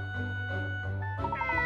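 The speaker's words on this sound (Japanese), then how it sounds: "野良猫かしら。" A stray cat in the video game Layton Mystery Journey gives a short, rising meow over a steady background hum of game music.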